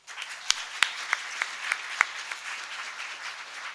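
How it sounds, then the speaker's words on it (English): A round of applause at an evening awards ceremony, the Hallam Award 2014, with a dense wash of clapping from a seated audience and several sharp, louder individual claps standing out, tapering off over a few seconds. "Can we have a round of applause?"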